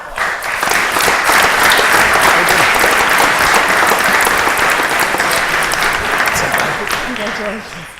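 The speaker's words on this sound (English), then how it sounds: "Can everyone give it a great all around applause?" Sustained audience applause at a board of trustees meeting, loud and dense, filling the room steadily for several seconds before tapering off near the end.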